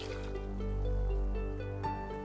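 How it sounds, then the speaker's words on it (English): Vinegar brine with dissolved sugar and salt pours steadily over vegetables for a Vietnamese do chua pickle, a continuous liquid splashing and trickling sound, close and fairly quiet, alone without talk. "Pour it on the vegetables."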